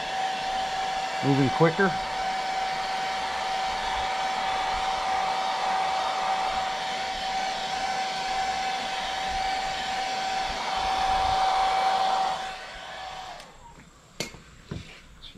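A hair dryer blows steadily to dry thin coats of airbrushed paint, a loud continuous whine running for about twelve seconds before cutting off, followed by a few small clicks and brief speech.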